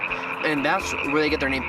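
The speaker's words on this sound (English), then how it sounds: "these are actually the frogs responsible for the very iconic ribbit sound" Pacific chorus tree frogs in a desert wetland give repeated ribbit croaks close by, rising and falling in quick pulses, while someone talks over them.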